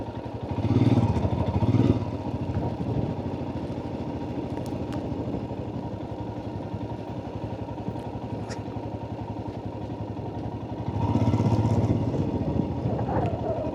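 A motorcycle engine drones steadily while riding a mountain road in Ladakh's Sham Valley, a low constant rumble with a couple of louder swells near the start and end.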